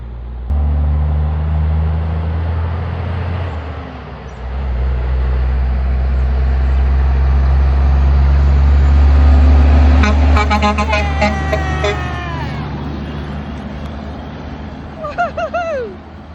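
A Kenworth truck with no trailer rolls slowly past, its low, fairly quiet engine rumble swelling as it nears and fading away, with onlookers' brief chatter and whoops near the end.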